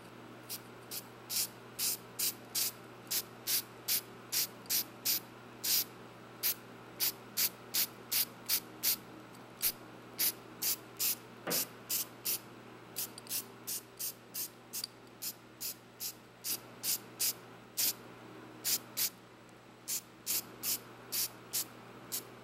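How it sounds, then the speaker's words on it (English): A spray paint can lays black paint on a Chevelle SS wheel in a long run of short, sharp hissing bursts, each about a second or less, repeated steadily and close up with no talking. "we'll go ahead and apply a light coat of black"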